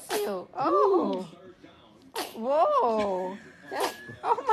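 An infant gives repeated sneezes up close, each sharp burst followed by voiced, whimpering sounds, with a brief pause between bursts.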